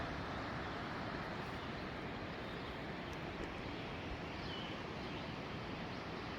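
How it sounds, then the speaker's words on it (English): Distant waterfall heard from a scenic overlook at Cloudland Canyon State Park: a steady, broad, faint rushing roar that continues unchanged throughout, with no talk. "That's got to be a waterfall."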